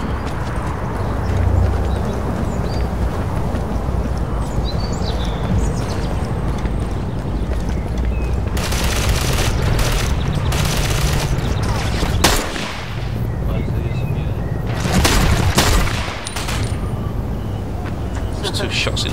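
Gunfire in the online shooter Ghost Recon Phantoms, with bursts of rapid shots clustered mid-clip amid game ambience and footsteps, while a player talks over the action.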